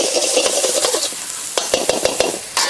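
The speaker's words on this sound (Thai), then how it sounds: "ผัดพริกกระเทียมให้หอมก่อน" Chili and garlic stir-fried in a pan over a charcoal stove, a steady sizzle broken by sharp scraping strokes of the spatula, close up and loud, with several quick clatters near the end.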